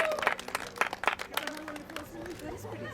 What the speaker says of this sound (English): Let's give a round of applause for our unlimited class.